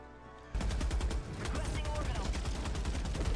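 A tank's main cannon fires in Helldivers 2, a loud sudden blast followed by a dense run of rapid booming impacts and crackling explosions.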